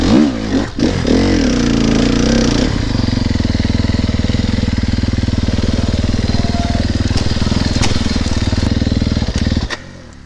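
A 4-stroke enduro motorcycle engine roars loud and close as it revs and labours over rocks, the pitch sweeping up and down before settling into a sustained heavy drone that cuts off near the end.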